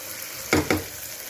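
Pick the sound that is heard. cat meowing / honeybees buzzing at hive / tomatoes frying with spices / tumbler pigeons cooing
tomatoes frying with spices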